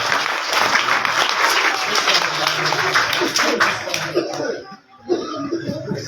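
A crowd at a student prize-giving ceremony bursts into loud, dense applause that rolls on for several seconds before thinning out, with voices and a brief chuckle mixed in near the end.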